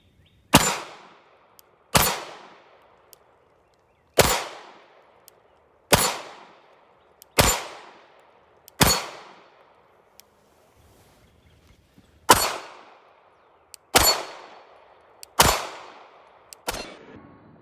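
Glock 19X pistol firing its first rounds, about ten sharp loud shots spaced one to two seconds apart, each with a short ringing decay, no talking.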